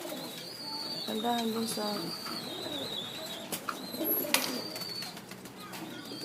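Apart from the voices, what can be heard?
pigeon cooing, a breeder bird and its young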